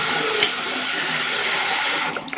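Water poured into a bird cage water dish, a steady close splashing stream running for about two seconds before tapering off with a few drips.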